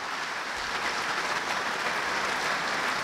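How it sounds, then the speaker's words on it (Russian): Steady, dense applause fills a large hall at a Kazan election event, a continuous wash of clapping from a big audience with no talk over it. "сам переходит на татарский, чем вызвал шквал аплодисментов и гул одобрения всего зала."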